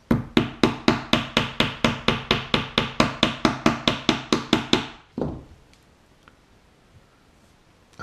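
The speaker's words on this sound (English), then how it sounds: "get myself a little pin, stick it in the top of there, just give it a gentle tap" A jammed solder sucker is struck with a pin in about twenty evenly spaced, close taps over five seconds, followed by one louder knock and then near silence.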